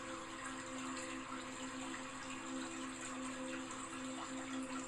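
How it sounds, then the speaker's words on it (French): A waterfall pours in a steady, unbroken rush of water, even and continuous throughout at a moderate distance, with no other sounds standing out. "Avec juste le son de cette merveilleuse cascade qui coule"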